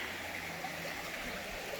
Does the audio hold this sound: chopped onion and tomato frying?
no